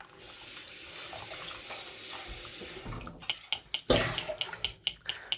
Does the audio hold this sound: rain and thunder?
no